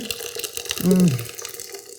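Blended mulligatawny soup poured from a Vitamix blender jar back into a cooking pot makes a short, close liquid pour that swells for about half a second and then tapers off.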